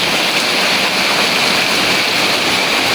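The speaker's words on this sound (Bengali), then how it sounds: "বৃষ্টি পড়তেছে চুলার চারপাশ দিয়ে বৃষ্টি পড়তেছে" Heavy rain pours through the roof of a home kitchen around the stove, a loud, dense, unbroken hiss of falling water with no voices.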